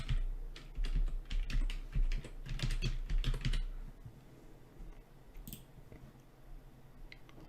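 Close, quick keystrokes on a computer keyboard as a password is entered, a dense run of clicks for a few seconds, then quieter occasional taps over a soft room hum.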